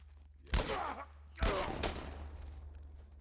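Gunfire in The Last of Us: two sharp, loud shots about a second apart, each followed by a rumbling decay and a fainter crack afterward, over a steady low hum.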